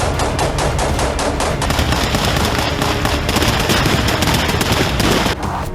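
Heavy gunfire on the Ukraine war front: rapid machine-gun bursts crackle loud and close, rattling almost continuously before a brief drop at the very end.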